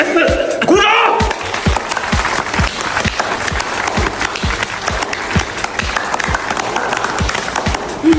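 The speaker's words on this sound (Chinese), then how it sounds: "鼓掌！" Scattered, uneven clapping from a small group of patients in a hospital rest area during a comedy skit, with sharp individual claps repeating steadily, close by, and a brief voice at the start.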